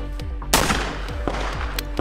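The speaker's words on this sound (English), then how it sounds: "I want you to call up the shots and tell me where they're landing." A shotgun pistol fires one loud, sharp shot that rings out over a steady background with fainter thuds, heard alone without talk.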